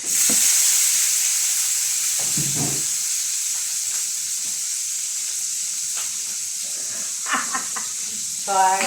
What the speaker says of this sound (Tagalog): ginigisa ko na ang bawang, sibuyas, kamatis